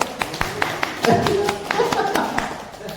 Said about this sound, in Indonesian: Tepuk tangan dulu untuk kelas 1.